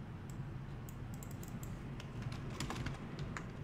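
Rapid typing on a computer keyboard at an Ubuntu terminal: quick, irregular key taps close by, fairly soft and continuous with no voices.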